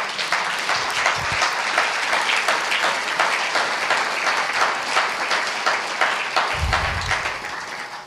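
Church congregation at a Sunday worship service applauding and cheering for Jesus, a dense, steady wash of clapping sustained for the whole stretch with brief low rumbles near the start and end.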